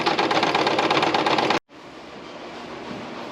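A sewing machine stitches a patch with white bobbin thread below, a fast, even, close whir that stops abruptly partway through, leaving quiet room hiss.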